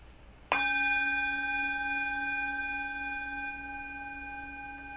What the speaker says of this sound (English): Love that bell.